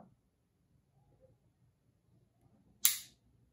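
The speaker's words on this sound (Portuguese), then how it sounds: "Eu vou acionar novamente o gatilho. A arma vai ciclar." Glock G17 trigger dry-fired, a single sharp, loud metallic click standing alone against a quiet room, with faint low background murmur before it.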